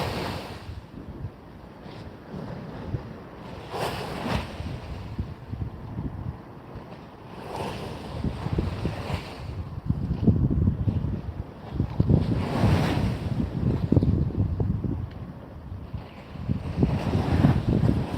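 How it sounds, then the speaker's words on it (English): Sea waves wash onto the shore at Cleveleys near Blackpool at high tide, rolling surges that build and swell under strong wind buffeting on the microphone, with no voices. "the sound of the sea."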